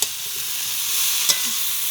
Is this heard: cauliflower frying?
yes